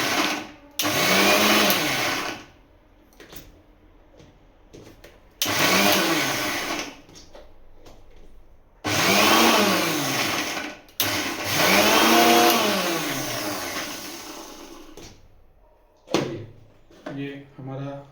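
An electric mixer grinder grinding ginger and garlic, loud whirring motor bursts of a few seconds each, starting and stopping several times with quieter gaps between them, and someone speaking briefly near the end.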